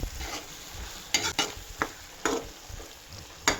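Powdered roasted gram being stirred into masala in a pan, a quiet background sizzle broken by a series of distinct scraping strokes of a spoon against the pan at irregular intervals.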